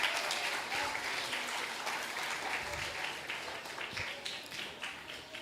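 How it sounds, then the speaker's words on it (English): Audience at a primary school graduation ceremony applauds a graduating pupil, with steady sustained clapping from a crowded hall holding level for several seconds. "Can we give her a round of applause?"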